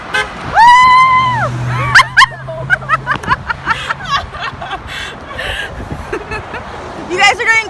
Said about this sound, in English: We're actually getting a lot of honks.